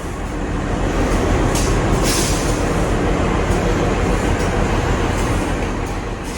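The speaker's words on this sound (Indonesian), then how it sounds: "mari kita lihat proses penyambungan lokomotif dengan gerbong keretanya" Loud, steady rumble and rolling clatter of a train as a locomotive is coupled to passenger carriages on a Yogyakarta–Kutoarjo line, with brief sharper bursts near the start.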